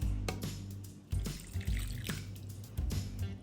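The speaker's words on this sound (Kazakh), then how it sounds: "Суымызды құйып алдық" Water trickles and splashes steadily into a vessel, with a few louder pours and clinks, close by and without talk.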